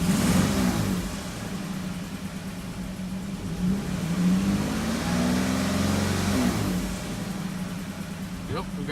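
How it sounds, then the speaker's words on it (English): A flooded and burnt 2014 Chrysler 300 with an exhaust leak revs in a few rising and falling surges over a rough idle, with a voice talking over it. "Yep, we got an exhaust leak."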